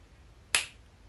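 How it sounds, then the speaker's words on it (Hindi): A single sharp finger snap, close and crisp, ringing out once against a quiet background. "चुटकी ते वजदी है"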